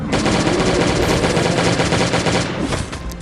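Continuous rapid gunfire in the zombie video game Last Day On Earth, a dense loud stream of automatic shots with no pauses, close and harsh, lasting throughout.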